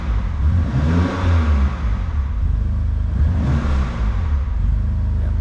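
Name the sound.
BMW S55 engine revving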